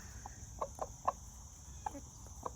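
Hens and a rooster in a new pen, giving scattered soft clucks, about half a dozen brief calls at a moderate distance over a faint steady insect-like hum.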